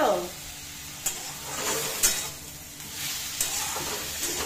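A ground prawn head paste fries with turmeric in a pan, giving a steady sizzle marked by several spoon-stirring scrapes at roughly one-second intervals.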